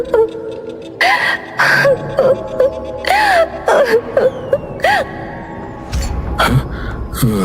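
Someone cries in a series of short, rising and falling wailing sobs and whimpers, fairly close and loud, separated by brief pauses.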